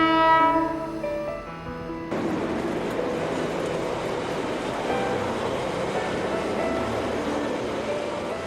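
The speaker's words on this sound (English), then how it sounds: "The daily Transalpine passenger train from Christchurch to Greymouth will soon be passing us as we wait in the loop line at Rotumanu." The Transalpine passenger train from Christchurch to Greymouth, New Zealand, passes a train waiting in the loop line at Rotumanu, opening with a sustained multi-tone horn that gives way to a broad, steady rumble and clatter of carriages rolling by close at hand.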